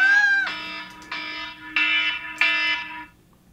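An alarm sounds in a room where musicians are chatting, a bright electronic tone pulsing in four loud, evenly spaced bursts close by before cutting off, with no talk over it.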